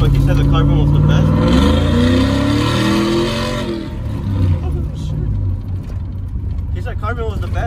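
Cammed 5.3 V8 revving through a new Carven exhaust, a loud, deep, rising and falling rumble with a lopey idle between blips, up close.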